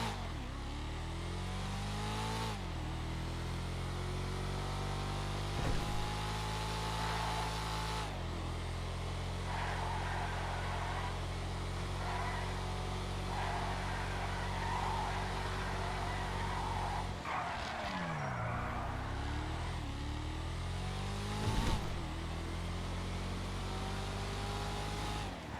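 The Valier, a two-door sports car in a video game, drives with a sustained engine drone through repeated gear shifts, rising and dropping in pitch, steady and close, with one sharp downshift-like dip partway through.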